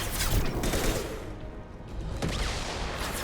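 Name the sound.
heavy weapon gunfire in Mass Effect 2 video game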